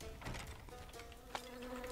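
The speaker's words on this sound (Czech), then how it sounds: "Oh, já mám armádu včel." A swarm of bees buzzing in the video game Rampage Knights, a faint, continuous droning hum with a quick click partway through.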